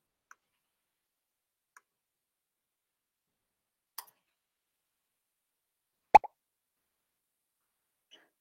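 A Scratch sprite plays a pop sound effect: one short, crisp pop stands alone after a few faint scattered clicks in an otherwise quiet space.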